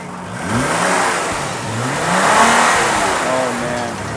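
A 2014 Nissan GT-R supercar's six-cylinder engine revs in rising and falling sweeps, fairly close and loud, with a sustained roar between pulls and no talking over it.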